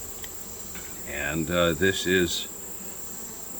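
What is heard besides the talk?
bees buzzing from a colony cut out of a roof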